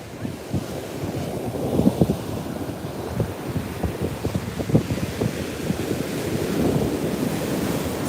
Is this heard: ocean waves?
yes